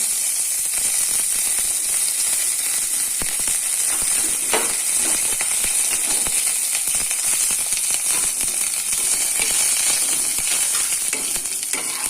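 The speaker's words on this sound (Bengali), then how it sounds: "এবার দিয়ে দেব সামান্য তেলে কারি পাতাগুলো।" Curry leaves sizzle and crackle in a little hot oil, a loud, continuous close-up fry with dense popping spatter throughout and no talking.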